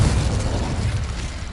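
A Confringo spell from Hogwarts Legacy bursts into a loud, full-bodied explosion with a heavy low rumble, sounding close and alone and fading slightly over its short span.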